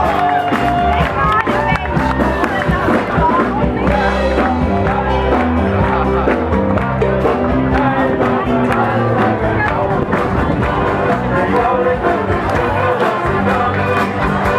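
A crowd cheers and applauds for a singer at the Binningen market, the noise steady and dense over loud band music with shouts and whoops mixed in.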